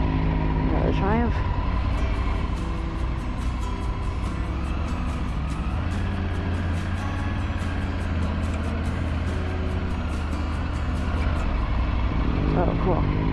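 Cars and motorcycles run steadily at an outdoor car show, a continuous low engine rumble with idling and revving throughout, brief motor swells near the start and end, and voices faintly in the background.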